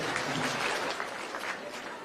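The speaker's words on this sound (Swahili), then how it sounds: "Tumpigie makofi tena tafadhali." A large outdoor audience at the Turkana Cultural and Tourism Festival breaks into sustained applause after a dignitary's speech, a dense and steady wash of clapping from a big crowd that fills the whole moment.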